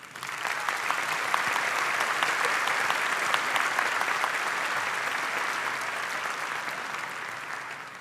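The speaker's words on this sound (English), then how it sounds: "let's give them a round of applause" A large crowd at a high school commencement ceremony applauds parents and caregivers, a sustained, even roar of clapping from many hands that swells in and fades gently toward the end.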